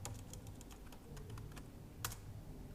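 Computer keyboard keys tapped quickly while entering shortcuts during Linux DNS configuration, a string of faint, close clicks with one sharper keystroke near the end.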